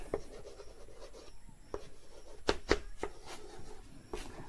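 A pen scratches across paper close up while working out a matrix solution, with a continuous soft scratchy texture broken by sharper strokes and taps.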